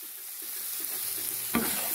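Spice masala for an eggplant curry with yogurt fries in a pan with a steady, moderate sizzle, joined by a few soft stirring scrapes and one sharper clack near the end.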